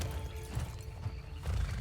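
In the Red Dead Online video game, a horse whinnies and hooves clop over a dense, low rumbling game soundscape, moderately loud throughout.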